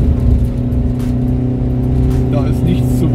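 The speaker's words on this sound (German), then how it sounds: "Ich fahre da mit 4000 Umdrehungen im zweiten Gang" Car engine held at 4000 rpm in second gear on a mountain pass descent, a steady loud drone with a constant low hum and little variation throughout.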